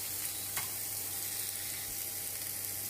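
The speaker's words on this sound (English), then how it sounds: "What I'm going to do now quickly is just to show you a quick saute method." A hot pan sautéing food in a home kitchen gives off a steady, quiet sizzle with a light clink near the start, carrying on evenly without speech.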